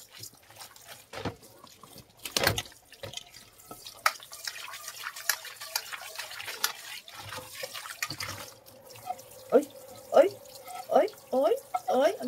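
Greasy dishes get washed with dishwashing liquid under a running tap, with water trickling, dripping and splashing as items are handled, and a few sharp clinks. A person talks throughout.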